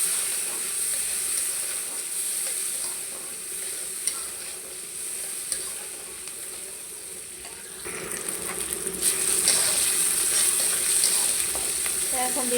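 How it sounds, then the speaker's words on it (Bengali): Chopped onion and green chilies fry in a pan for a greens dish, giving a steady close sizzle with stirring scrapes throughout; the frying swells louder and brighter in the last few seconds. "দিয়ে এখন ভালো করে ভেজে নেবো।"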